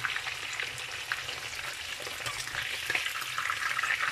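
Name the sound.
meat frying in a pan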